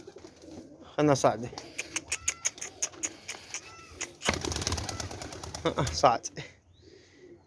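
Pigeons, including a black Raffle pigeon, coo in soft rolling calls with a burst of wing flapping and clattering partway through, close by, while someone talks over them.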